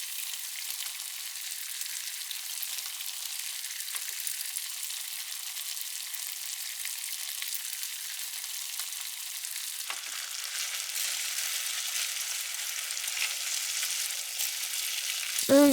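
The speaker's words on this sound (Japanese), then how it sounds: "炒めすぎず、シャキッとした火の通り加減で取り出します" Vegetables being stir-fried in a pan for a quick lunchbox, a soft, steady crackling sizzle that runs throughout with a couple of light clicks of chopsticks against the pan, with no talking.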